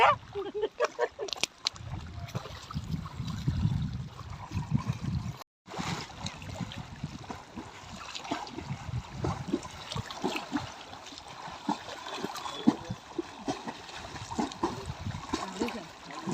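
Two brothers bathing in lake water, with continuous sloshing and splashing close by, loud at first and then steadier after a short break. Faint voices are mixed in.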